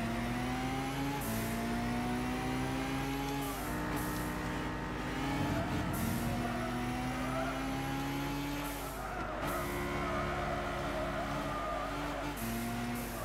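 Race car engines in Gran Turismo 6 drone loud and continuous through a World Touring Car Championship race, rising in pitch with each gear, dropping on shifts, with bursts of tire squeal as several cars run bunched together.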